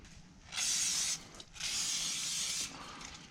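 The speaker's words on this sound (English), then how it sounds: "I just spray it with brake cleaner and I scrub it with Scotch-Brite" Two long hissing bursts of brake cleaner spray with a brief pause between, close by, followed by faint scrubbing with a Scotch-Brite pad on a wheel hub assembly of a 2011 Cadillac DTS.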